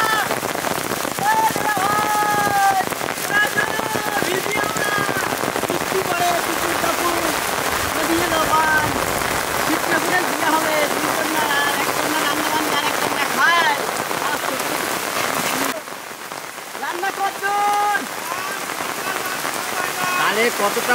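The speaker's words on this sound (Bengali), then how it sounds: "বৃষ্টি হচ্ছে খুব। কিভাবে হচ্ছে দেখো, এই দেখো কিভাবে জল কাটছে।" Heavy rain pours steadily on surfaces at an outdoor village cooking site, a loud dense hiss that never lets up, while people talk over it and one voice carries through much of the downpour.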